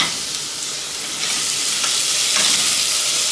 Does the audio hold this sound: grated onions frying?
yes